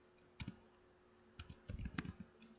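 Commands being typed on a computer keyboard at close range: a few scattered single clicks, then a denser run of quick keystrokes, with no talking.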